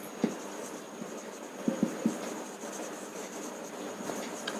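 Pen or marker writing on a surface during a chemistry class lesson, soft continuous scratching with a few light taps, faint and close in a quiet room.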